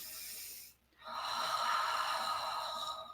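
Someone demonstrates shallow upper-chest breathing: a quick airy exhale, a short pause, then a long raspy breath, close and fairly quiet.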